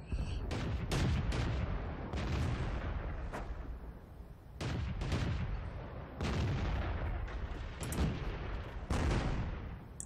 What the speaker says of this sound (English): I have no desire engaging in closer than danger close artillery barrage.